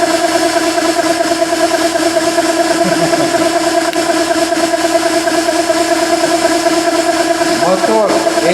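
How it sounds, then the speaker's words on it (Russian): An 80 W electric motor drives a permanent magnet generator with a loud, steady mechanical hum and whine of strong, even tones. It runs unbroken throughout, and brief voices come in near the middle and the end. "Мотор 80 Вт."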